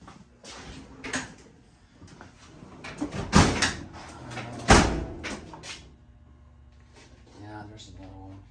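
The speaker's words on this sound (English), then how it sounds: "Let me look in this drawer." A drawer slides open and is rummaged through, with several sharp clattering bangs of metal parts such as valve springs knocking around, moderately close, accompanied by a voice speaking.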